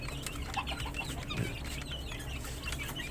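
Asil and Japanese breed chickens clucking in a small coop, scattered soft clucks and calls over a constant low background hum, close by and with no talk.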